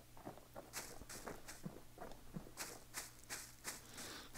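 A character runs from zombies in the survival game Aftermath, with quick, steady footsteps tapping in an even rhythm throughout, fairly faint and with no talk over them.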